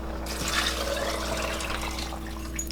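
Beef stock pours into a Power Pressure Cooker XL pot already holding frozen vegetables, tomatoes and macaroni for hamburger macaroni soup, a steady close splashing trickle lasting a few seconds with no talk.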